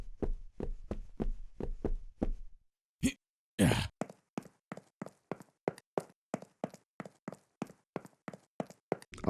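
Player footsteps in a UE5 and FMOD game change with the surface underfoot: a run of dull thuds, a pause and a brief scuffing burst, then a longer steady series of sharper, crisper steps at walking pace, clear and close.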